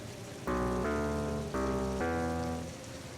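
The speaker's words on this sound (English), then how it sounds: "every now and then I think we'll leave on the rain. The pitter-patter, the sound." A steady pitter-patter of rain runs underneath a few sustained musical notes that rise and fade, with no talking.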